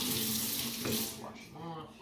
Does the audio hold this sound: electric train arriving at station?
no